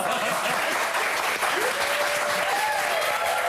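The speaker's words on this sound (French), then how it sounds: "Non mais n'applaudis pas." A TV studio audience claps in a steady, dense wash of applause throughout, with voices talking over it.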